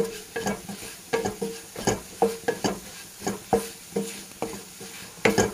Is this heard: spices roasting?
yes